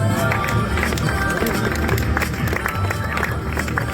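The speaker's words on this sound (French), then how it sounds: "Applaudissements pour notre trophée vosgien masculin Medio Fondo" A crowd claps and cheers outdoors for the winner of the men's Medio Fondo trophy at a Vosges gran fondo cycling event, steady dense applause mixed with murmuring voices and background music throughout.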